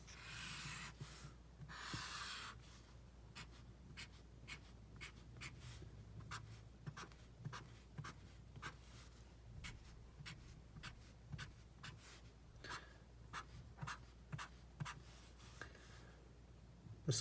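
Pen or marker drawing a graph by hand, a steady run of short scratchy strokes and brisk rubbing sounds up close, with a faint low hum underneath and no talking.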